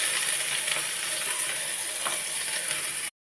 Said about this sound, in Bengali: এইবার পেঁয়াজটা ছেড়ে দিলাম